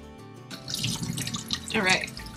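Tap water runs and splashes while a whole turkey is rinsed in a small RV kitchen sink, a close, steady gush with a faint hum underneath.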